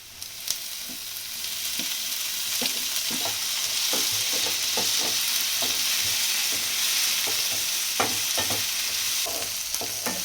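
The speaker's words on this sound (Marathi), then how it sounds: "आता लालसर कांदा भाजून घेतला मी आता आता मी टॅमॅटो टाकते" Onion and tomato frying in a pan for egg bhurji, with a steady, fairly loud sizzle and scattered clicks and scrapes as a spoon stirs throughout.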